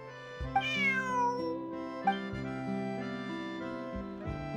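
A cat in Genshin Impact gives a couple of rising and falling meows, clear and close, layered over a steady background of gentle musical chords with no talking.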